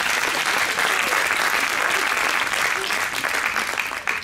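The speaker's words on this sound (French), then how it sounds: "on peut l'applaudir bien fort" Steady, dense clapping from a large audience, sustained at full strength throughout with no pauses.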